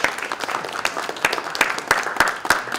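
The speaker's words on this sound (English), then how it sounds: "So let's give them a big round of applause." An audience at a Brooks Memorial Library evening talk gives a round of applause, dense irregular hand claps filling the room at moderate volume, with no talking over it.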